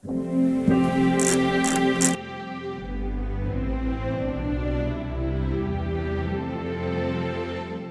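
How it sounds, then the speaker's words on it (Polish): Broad, sustained synth pad chords from the third layer of a Korg SV2 stage piano swell and hold for several seconds, smooth and steady, after a brief brighter attack at the start. "Na trzeciej warstwie mamy pada"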